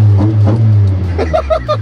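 A Toyota AE86 Trueno with four throttle bodies, a high-lift cam and a titanium muffler gives a brief low engine rumble up close while people talk over it.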